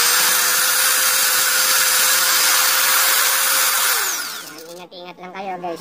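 An electric angle grinder on 220-volt power runs at a steady high-pitched whine for about four seconds, then winds down and cuts off as a voice starts speaking.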